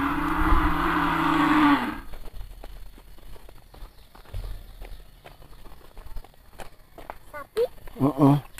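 Cattle moo loudly and close by at a village cow shed, a long low call up front, then distant footsteps and scattered rural noises with brief animal or voice sounds near the end.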